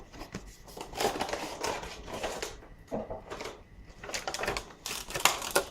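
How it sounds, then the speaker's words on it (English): A vintage Sailor Moon toy is pulled from its snug plastic packaging, with close, irregular crinkling, crackling and clicking of the plastic coming in uneven bursts and no talk. "we'll take it out of the package"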